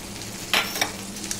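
Chicken tikka with kasuri methi stirred in a pan, a low steady sizzle with a couple of brief scraping stirs.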